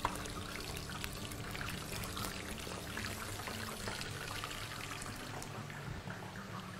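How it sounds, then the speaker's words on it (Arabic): Water drains and trickles off soaked potatoes in a kitchen while the cook prepares chicken maqluba, a steady close pouring and dribbling with small splashes throughout. "شوية ننشف المي اللي عندنا"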